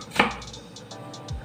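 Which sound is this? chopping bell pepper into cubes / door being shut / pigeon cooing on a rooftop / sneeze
chopping bell pepper into cubes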